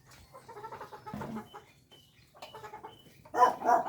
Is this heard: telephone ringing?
no